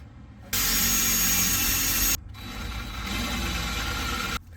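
A loud, steady high-pitched drill whine boring a small hole in a 1953 Mercury fuel tank's metal tab runs for a couple of seconds, cuts out briefly, then resumes a little softer before stopping.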